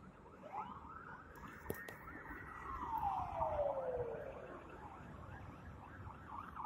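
An ambulance and two fire engines speed past on a hot summer evening, their sirens wailing in long rising and falling sweeps at a moderate distance over faint outdoor ambience.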